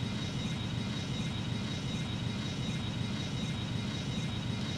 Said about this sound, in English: We're gonna full throttle it and get this plane off the ground.